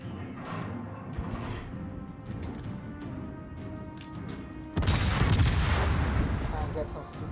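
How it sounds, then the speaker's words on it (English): Warship guns booming in World of Warships, a naval battle game, with a loud heavy salvo crashing in partway through over a steady background of engine and sea rumble, while a voice talks. "I'm going to reduce the guns firing at me by firing at this Maya"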